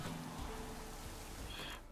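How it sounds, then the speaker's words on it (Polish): Steady dense hiss of rain falling continuously in the video game The Witcher 3: Wild Hunt, a broad wash of noise that fades slightly at the end. "Cały czas deszcz pada."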